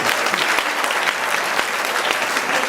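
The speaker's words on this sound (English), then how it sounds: "Another round of applause for our awardees tonight." Sustained applause from an audience at a university arts awards ceremony, dense steady clapping filling the whole stretch with no voices over it.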